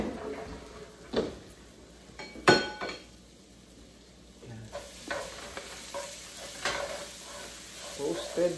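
Garlic frying in a pan while being stirred, a quiet sizzle broken by occasional scrapes and clinks of a utensil against the pan, close and faint.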